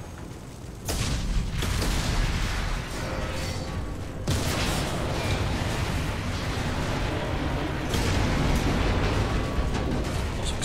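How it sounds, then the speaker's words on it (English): Loud, continuous explosions and rumbling booms from the video game Mass Effect 2, with sharp blasts breaking through near 1, 4 and 8 seconds over a dense, sustained roar. "Lots of explosions, by the way."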